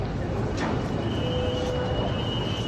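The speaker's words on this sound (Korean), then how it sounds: "전철 올 때까지. 왔다 왔다." A subway train arrives at a station in India, a steady broad rumble with a faint rising whine, heard from the platform.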